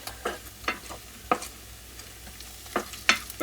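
Garlic being stirred into softening onions in a frying pan for a beef, sausage and tomato pasta sauce, with a scatter of short scraping strokes over a faint sizzle.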